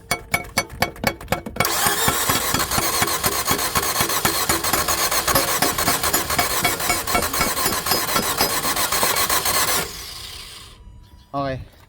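A car starter tries and fails to crank the engine: a few sharp clicks, then a long harsh grinding rattle lasting about eight seconds before it cuts off, with a brief voice near the end.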